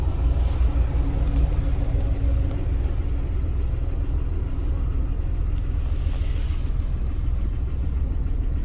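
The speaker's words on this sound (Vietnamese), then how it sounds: "Máy nổ êm, cách âm tốt," A 2016 Hyundai Grand i10 with a 1.0 engine and manual gearbox idles smoothly and steadily, a low even hum heard from inside the car with no talking.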